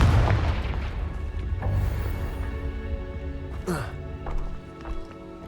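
A Confringo spell explosion in Hogwarts Legacy booms low and heavy at the start, then fades into rumbling battle noise with a sharper blast partway through, over game voices.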